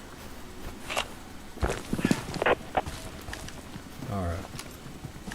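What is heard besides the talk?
footsteps, from video game Deadside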